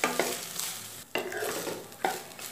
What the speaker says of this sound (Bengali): পাতিলেবু রসটা দিয়ে আবার ভালো মতো নেড়ে চেড়ে মিশিয়ে দেব।